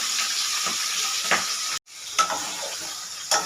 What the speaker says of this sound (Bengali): প্রথমে আমি মাছটা দিয়ে দিলাম, মাছটা ভাজা হোক।